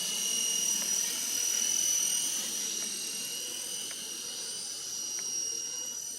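An RC Era C189 radio-controlled helicopter hovers close by with a steady, high-pitched motor whine and rotor buzz that holds even throughout, with no talk.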